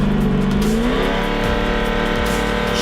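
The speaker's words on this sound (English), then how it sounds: "Chevy Corvette and the Pontiac Firebird, both of them leaving right together, launching off to the top end" At a street car drag race, a Chevy Corvette and a Pontiac Firebird launch together, loud engines roaring and rising in pitch as they accelerate away, with gear changes breaking the climb.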